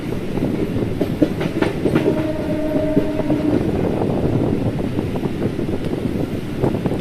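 A passenger train rumbles steadily along the rails from Repalle to Tenali with faint rhythmic clatter and wind noise, the sound of cars rolling over a short bridge; no talking.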